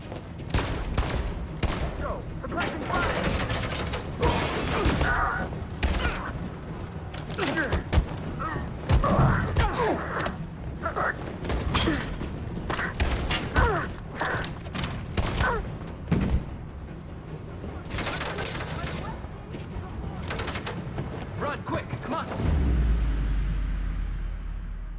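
Bursts of suppressing gunfire in the Detroit Become Human video game, dense volleys of sharp shots and thuds across the whole stretch, with voices shouting in the mix and a deep boom near the end.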